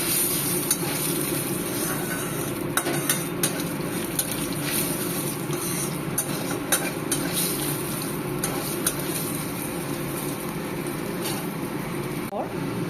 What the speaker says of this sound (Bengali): পোস্ত দিয়ে দিলাম দিয়ে ভালো করে এটাকে নাড়াচাড়া করে নিতে হবে এক সেকেন্ডের মতো যাতে পোস্তটা খুব ভালো করে ভাজা হয়ে যায়